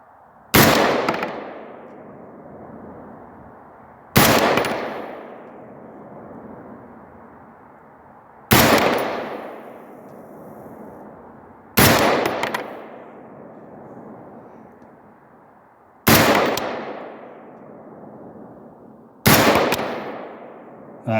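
Six loud, sharp gunshots ring out one at a time a few seconds apart from a gun fitted with a Holosun 503g sight, each shot followed by a ringing echo as it strikes steel plates.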